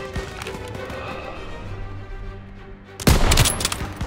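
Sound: machine gun fire in Call of Duty WWII video game

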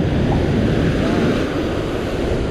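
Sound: rough sea waves breaking

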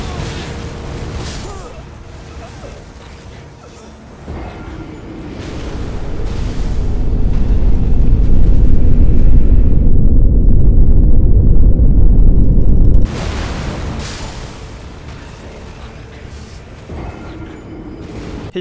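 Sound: Maliketh's Black Flame attack explosions in video game Elden Ring

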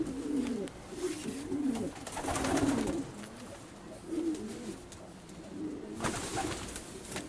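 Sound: racing pigeons cooing

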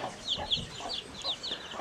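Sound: hens and naked-neck chicks on a farm

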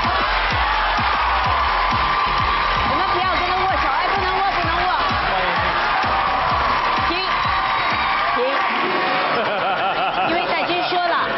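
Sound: audience applause welcoming Wu Jing

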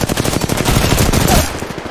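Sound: gunfire in the video game Apex Legends

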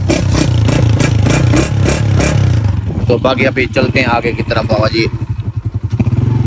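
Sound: motorcycle engine

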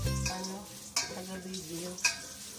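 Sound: onion sautéing in pan for chicken sotanghon soup

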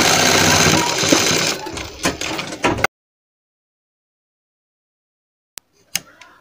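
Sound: sewing machine stitching a sleeve

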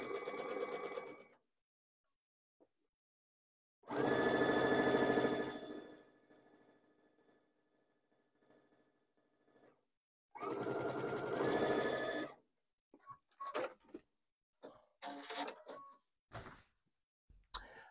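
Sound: sewing machine stitching a French seam

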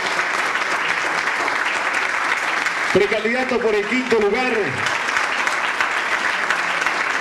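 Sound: audience applause for a candidate

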